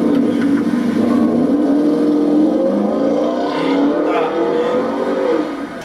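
A Porsche Panamera fitted with a sport exhaust revs with a deep, throaty engine drone that holds loud and close, rising and falling slightly throughout.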